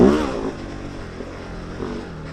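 A KOVE 450 Rally motorcycle engine running on a muddy riverbed trail, a loud rumbling burst at the start settling into a steady, moderately close drone.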